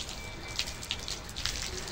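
Water pours steadily from the main stone water spout, a continuous hissing splash with a few brighter drips and splashes, fairly close and alone.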